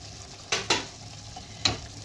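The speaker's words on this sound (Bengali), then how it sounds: "7-8 মিনিট বাদে আমি ঢাকনাটা খুলে একটু নাড়ালাম, তেলটাও ছেড়ে গেছে দেখুন" A curry that had simmered under a lid is stirred in a pan, giving three short, clear spoon scrapes over a faint, steady background.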